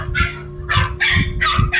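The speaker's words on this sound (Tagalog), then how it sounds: "Ang ingay, kaya palang ingay ng mga aso." Several dogs barking loudly in repeated bursts, about four rapid barks close by, with no voices.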